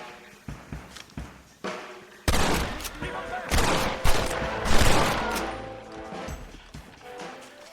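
Gunfire rings out in a Red Dead Redemption shootout: scattered single shots, then loud overlapping volleys and bursts, with shouting voices mixed in.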